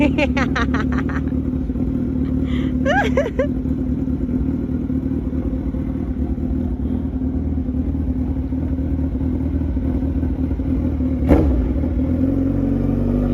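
A Suzuki Hayabusa 1300 motorcycle runs steadily throughout, its engine drone continuous and close with brief revving rises early on and a sharp clack near the end; people talk over it.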